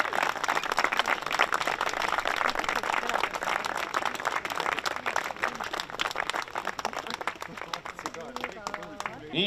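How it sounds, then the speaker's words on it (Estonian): A crowd claps for competition winners at a stadium opening in Kehtna, steady applause that carries on for several seconds and fades near the end. "Ja suur-suur aplaus võitjatele ja osalejatele!"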